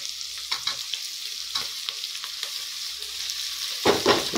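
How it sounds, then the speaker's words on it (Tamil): Sliced tomatoes frying in a pan for a simple breakfast, giving a soft, steady sizzle broken by a few scraping stirs, with a louder burst of stirring near the end and no one talking. "அந்த தக்காளியை நம்ம உள்ள எடுத்து கொட்டி இதையும் நம்ம வேக வைக்கணும்"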